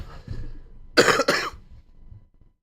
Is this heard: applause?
no